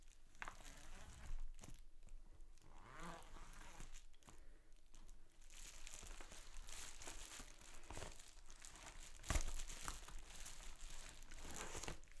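Plastic Ziploc bag of art supplies crinkling and rustling as it is handled and opened, a continuous close, dry crackle with sharper crunches throughout, no voices.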